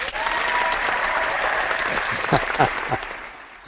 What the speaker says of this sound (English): I see you've found a little clapping button yourself